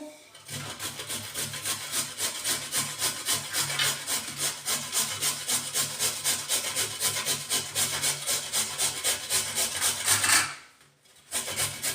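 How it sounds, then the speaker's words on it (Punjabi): Carrots are grated by hand on the fine side of a grater, giving a rapid, regular rasping stroke repeated for about ten seconds, loud and close, before it stops briefly and resumes. "ਆਪਾਂ ਇਹਨੂੰ ਕਰਾਂਗੇ ਗਾਜਰਾਂ ਨੂੰ ਕੱਦੂਕਸ"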